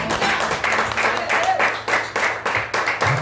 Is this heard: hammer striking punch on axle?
no